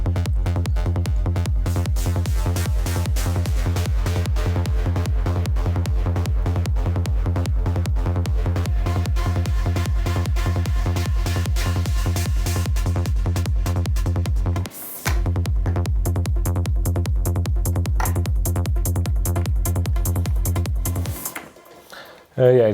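Sequenced synth bass layer from a live electronic setup, an added synth voice tracking the bass pitch, pulsing in a steady loud repeating pattern that breaks briefly near the middle and cuts off near the end.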